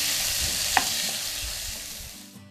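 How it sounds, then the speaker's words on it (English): Beef browning in hot sunflower oil in a large flameproof casserole dish, a steady close sizzle with a single sharp spike near the middle, easing slightly toward the end before cutting off. "Heat the sunflower oil in a large flameproof casserole dish or saucepan, and then add the beef."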